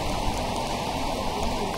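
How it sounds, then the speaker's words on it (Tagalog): Heavy rain falls steadily near Yambo Lake, a dense, even hiss of drops on surfaces that runs unbroken and fairly loud throughout. "Lakas ng ulan."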